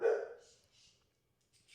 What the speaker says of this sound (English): if we can get the dog to quiet down